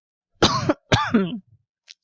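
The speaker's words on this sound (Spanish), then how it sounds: "Ahí les mando una tos." Two short, harsh coughs in quick succession, close and clear, followed by near silence.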